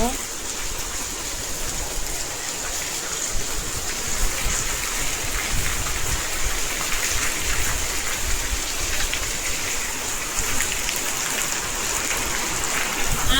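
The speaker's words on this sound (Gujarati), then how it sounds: "વરસાદ જામો જામો" Heavy rain pours down in a steady, dense hiss with drops drumming on surfaces, continuous and loud, with voices faintly beneath it.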